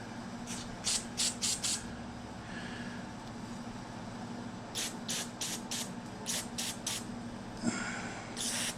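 Short hissing bursts of aerosol spray into a Polaris two-stroke carburetor, fired in quick clusters of three or four, over a steady low mechanical hum.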